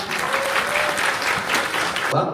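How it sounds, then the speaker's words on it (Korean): A burst of group applause, dense and fairly loud clapping from a small crowd, held for a couple of seconds before cutting off. "모두 박수 부탁드립니다"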